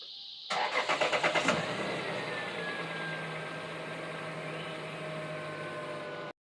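A Lexus GS300 engine cranks through a quick series of pulses for about a second, catches, and then settles into a steady idle close by.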